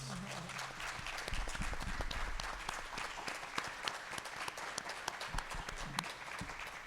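A full room at a PTA candidates night gives the candidates a sustained round of applause, dense even clapping from the audience that holds steady throughout with a few louder claps near the front.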